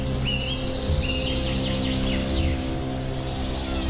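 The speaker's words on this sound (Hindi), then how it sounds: "जो चारों तरफ बर्ड्स हैं, वो बहुत ज़्यादा एक्साइटेड है। आप सुनिए कितना चीख रही हैं।" Birds in a Karnataka forest near a river call excitedly, giving a few thin, high sweeping chirps and squeals over a steady low hum of surroundings, with no talking heard.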